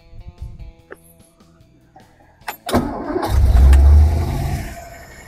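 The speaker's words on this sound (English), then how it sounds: "Now we just need to start the engine and begin the timing process." A classic car engine cranks briefly after some clicks and handling noises, then catches and roars up loudly before settling toward a rough, steady idle.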